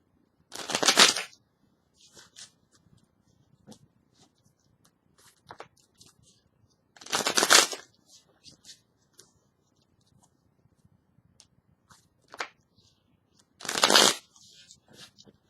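Tarot cards are riffle-shuffled three times at even intervals, each a crisp fluttering burst, with soft handling taps and clicks between.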